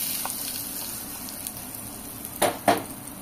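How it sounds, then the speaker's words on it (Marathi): Mustard seeds and curry leaves crackle in hot oil for a tempering poured into fresh coconut chutney, a steady close sizzling hiss broken by two sharp clinks of a pan or spoon near the end. "मोहरी आणि कढीपत्त्याची फोडणी याच्यामध्ये आता घालते"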